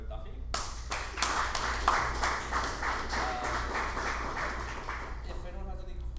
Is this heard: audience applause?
yes